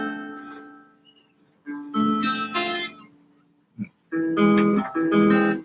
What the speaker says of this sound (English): The inside chords that sound like this.